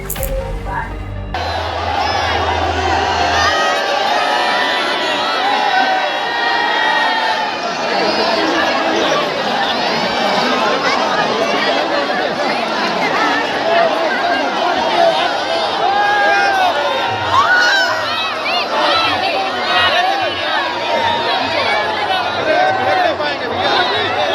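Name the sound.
crowd at Modi's road show in Kanpur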